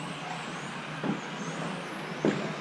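A stock Tamiya TT-02 RC car driving on a track, its steady motor whine shifting in pitch over constant broadband noise, with two brief louder bursts.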